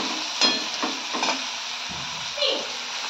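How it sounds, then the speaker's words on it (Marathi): Onion and tomato sizzle and fry in a pan while spices are stirred in with several scraping strokes, under a steady close hiss with no talking. "फक्त कांदा आणि टोमॅटो वरती जी फ्राय करतात त्याच्यावर आता मसाले टाकून घेऊया."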